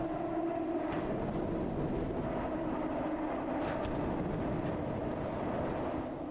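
A train rolls along its track in a video game, a continuous distant rumble with a steady mid-pitched hum and occasional soft clanks, no voices over it.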